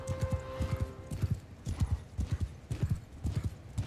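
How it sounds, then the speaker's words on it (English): A horse's hooves clatter in a steady galloping rhythm during a battle in Mount & Blade II Bannerlord, fairly quiet and somewhat distant, with a neigh and no talking. "That horse is so far away."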